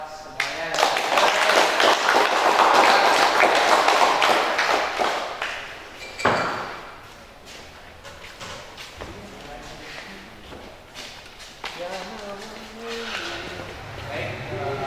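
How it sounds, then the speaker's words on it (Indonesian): Brief applause from a class during an automotive engineering lesson on clutch components, loudest in the first few seconds before fading into quieter room sounds and scattered taps. "Tepuk tangan buat semuanya."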